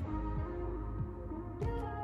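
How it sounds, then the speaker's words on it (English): A carpet cleaner, having trouble while cleaning a car, hums with a steady low machine drone throughout, with a rumbling motor tone and slight pitch wavering, fairly close and continuous. "we're having some trouble with the carpet cleaner"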